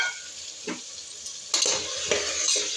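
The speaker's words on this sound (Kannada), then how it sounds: "ಚೆನ್ನಾಗಿ ಸ್ವಲ್ಪ ಫ್ರೈ ಮಾಡ್ಕೋಬೇಕು." Potato and kohlrabi pieces sizzle in a hot pan while being stirred, with a steady close frying hiss and a few scraping stirs and light utensil knocks.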